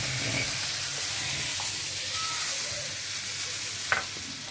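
Butter sizzles in a hot pan over a gas stove burner, a steady, close, broadband hiss that continues without a break.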